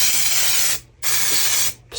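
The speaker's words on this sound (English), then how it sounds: "with silicone release spray." Silicone release spray hisses onto resin moulds in two long, steady bursts with a brief pause between them, loud and close, with no talking.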